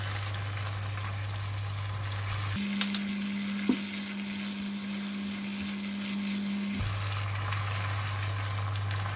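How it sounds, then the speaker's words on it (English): Sizzling stir fry of tofu and Korean chili paste with water added to the hot pan, a continuous close frying crackle whose tone shifts partway through, with a couple of brief clinks. "Add in a bit of water."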